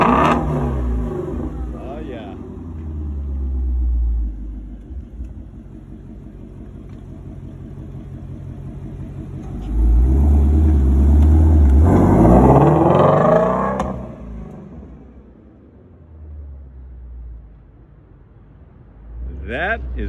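A 2020 Ford Mustang GT350 with exhaust baffles open idles with a deep rumble, then revs hard in loud bursts before settling, with a voice speaking over the engine between revs.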